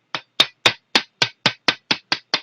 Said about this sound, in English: set your punch on it and lightly tap with the hammer